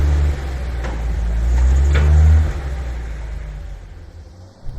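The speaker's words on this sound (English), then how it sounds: "I can start the van and put it in gear and slowly engage and tap the brakes" A Grumman van engine starts and drops into gear with a deep low rumble and a brief rise in revs, then idles down quietly, heard close with no talk.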